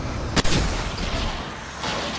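A sharp, heavy blast bursts out in the video game Alan Wake, then a long roaring rumble of battle noise follows, with another swell of explosion sound near the end.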